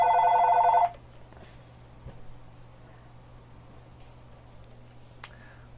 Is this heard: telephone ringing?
yes